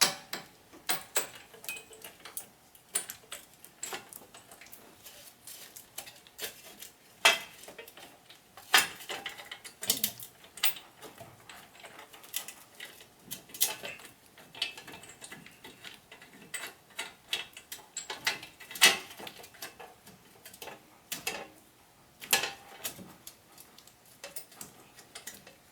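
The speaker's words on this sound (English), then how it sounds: "So now I'm going to start inserting the bearing, the hub assembly bolts." Hub assembly bolts being threaded and tightened by hand during a wheel bearing job on a Chevrolet Malibu: scattered light metallic ticks and clicks, irregular and fairly close, with quiet gaps between them and no talking.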